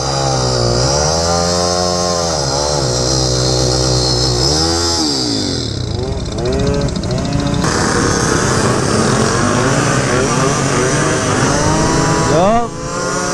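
Two-stroke scooters rev loudly and continuously nearby, engine pitch swooping up and down with throttle blips and one scooter dropping off before another rises, voices chatting faintly underneath.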